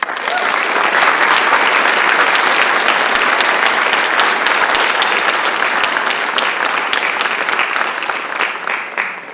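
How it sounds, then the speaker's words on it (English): Loud, sustained applause fills a school auditorium at a high school senior honors night, steady clapping from a large audience that swells and holds throughout before tapering slightly at the end. "Let's give them one more round of applause"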